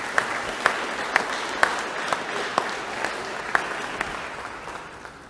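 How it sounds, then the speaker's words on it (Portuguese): A church congregation applauds in a loose, steady wash of clapping, with a few sharper claps standing out at roughly half-second intervals over several seconds. "glorifique a Deus com as palmas para a glória dele."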